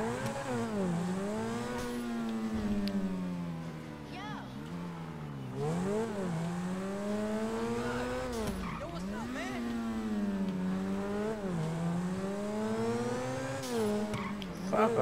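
Grand Theft Auto V car engine revving and accelerating hard through repeated gear shifts, rising and dropping in a steady loud drone with brief tire skids, a voice speaking over it throughout.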